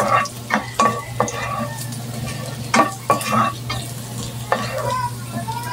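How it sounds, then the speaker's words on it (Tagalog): Close, loud sizzle of ginger frying in oil in a pan, with repeated scraping and knocking of a spatula stirring it in an uneven rhythm. "Gisahin natin ito para mabango na siya, bumango siya."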